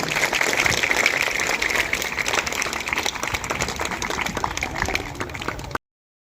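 Crowd of students, parents and staff clapping at a school parents' meeting in Talaja, a dense steady patter of many hands filling the hall for nearly six seconds before cutting off abruptly.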